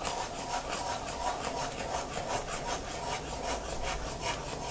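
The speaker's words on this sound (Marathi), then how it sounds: "हे छान असं मस्तपैकी हलवून घ्यायचं आणि भाजून घ्यायचं पीठ या तुपामध्ये छान" Wheat flour being stirred and roasted in melted ghee in a pan for halwa, a steady scraping and rubbing with an even back-and-forth rhythm, close and fairly quiet, with no voices.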